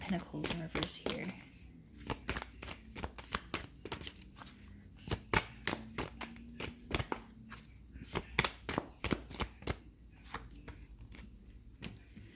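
Tarot cards are shuffled by hand in a quiet room, a long run of soft, crisp riffling flicks and slaps at an uneven rhythm, with a faint voice murmuring in places.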